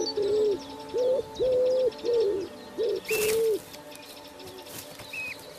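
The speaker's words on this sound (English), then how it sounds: "Wood pigeons are nesting nearby." Female wood pigeon cooing near a nest, a run of six soft, hollow phrases in a steady rhythm close by, followed by quieter background birdsong and a couple of brief higher calls.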